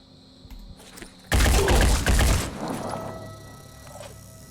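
A weapon shot fired in Phoenix Point lands as a sudden loud, sharp burst with a rattling impact lasting about a second, then a decaying rumble and quieter mechanical tail.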